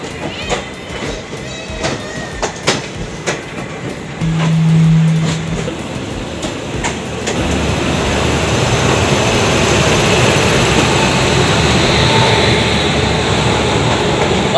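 The Barauni–New Delhi clone special train rolls past with a broad, steady rumble that builds after a few seconds and stays loud to the end, with a brief low horn-like tone near the start.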